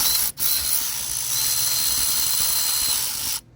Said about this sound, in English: Then I normally just use my electrical ratchet to run it down